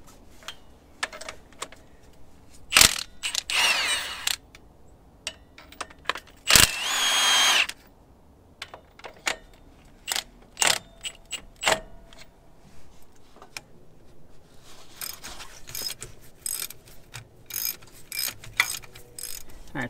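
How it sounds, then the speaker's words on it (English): Metallic clicks, ratcheting and tool clatter while removing a bolt from the decompression valve linkage of a 1950s Cat diesel engine, irregular sharp taps and short ratchet bursts, close and fairly quiet, no talk. "I think that we remove this bolt and it should slide out."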